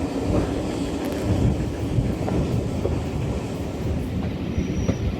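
A steam-hauled train led by locomotive 7828 Odney Manor runs steadily close by on the West Somerset Railway, a continuous heavy rumble and rattle of wheels on track with faint squeals, no voices.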